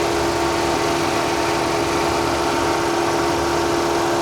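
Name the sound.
Mercedes-Benz diesel car engine idling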